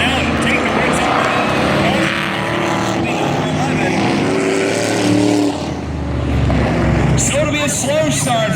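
Dirt-track racing trucks in a truck-class heat race at Valley Raceway, engines roaring loud and continuous, swelling and fading as they pass, with a voice speaking over the noise throughout.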